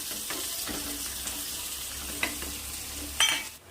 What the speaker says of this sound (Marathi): असं बारीक कट केलेला एक कांदा आहे परतून घ्यायचा याला